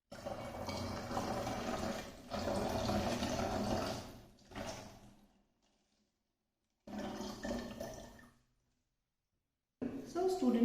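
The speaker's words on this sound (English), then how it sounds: "the water is flowing equally from all the sides" Water streams out of several taped-over holes in a container during a classroom science demonstration, splashing and pouring in bursts with sudden silent gaps between them, fairly close and loud.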